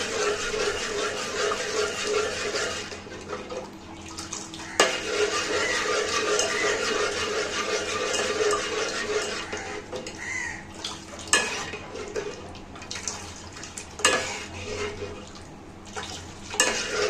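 Nawabi vermicelli (semai) stirred in a pan, with repeated scraping of a utensil against metal, clinks and a soft sizzle, close and steady with brief pauses.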